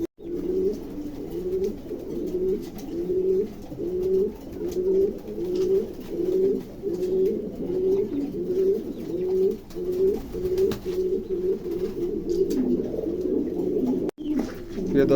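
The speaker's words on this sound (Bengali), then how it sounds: "চমৎকার এক জোড়া কবুতর, ভালো লাগলে অবশ্যই সংগ্রহ করতে পারেন।" A pair of fancy pigeons, a gimmebar female and a blue bar male, coo steadily in low, rhythmic, repeated throbs that run close and continuous throughout.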